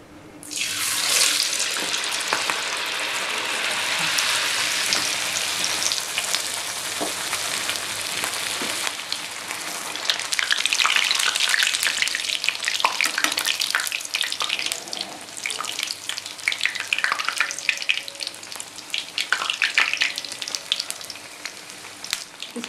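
Makki puri frying in hot oil, a loud, steady hiss and crackle that runs without a break and swells partway through, with no talking.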